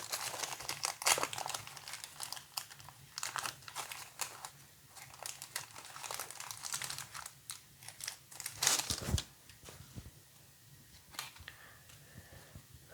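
A 1989 Pro Set football card pack wrapper being ripped open, heard as close, quiet crinkling and tearing bursts in irregular clusters with brief pauses.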